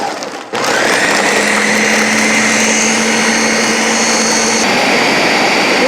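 A blender grinds an avocado peanut butter shake with ice, starting abruptly into a loud, steady, high-pitched motor whine and churn that runs continuously up close.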